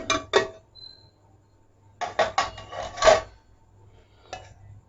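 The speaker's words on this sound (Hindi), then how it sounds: "तो अब मैं इसको डिश आउट करता हूँ और मैं आपको दिखाता हूँ फिर।" Chicken daabu is served out of a cooking pot with a metal utensil, giving a few sharp scraping clinks and then a cluster of quick metallic scrapes and taps, close and separated by quiet pauses.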